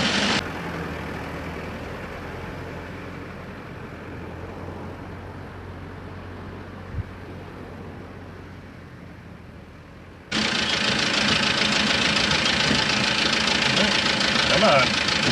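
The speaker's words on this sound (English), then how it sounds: "engine runs good though." A left-hand-drive diesel mini truck engine runs with a steady, rough mid-range drone, close by, then swells noticeably louder and stays loud for the last few seconds.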